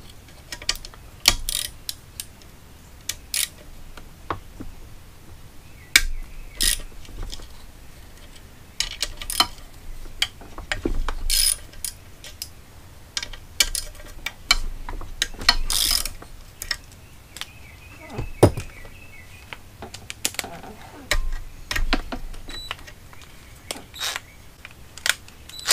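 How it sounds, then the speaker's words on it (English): Bolts are cracked loose on an older 1964 Mercury Thunderbolt 1000 100hp outboard motor, with sharp ratchet clicks and metallic snaps in scattered irregular bursts over quiet gaps, close by and fairly loud. "Since this is an older one, I'm gonna crack these bolts first."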